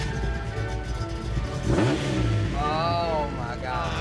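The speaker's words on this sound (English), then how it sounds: "Look at how fast it revs." The engine of a 1973 Datsun 240Z, making about 204 horsepower at the wheels, revs up sharply and quickly with a rising snarl, close by and loud, while people talk and exclaim over it.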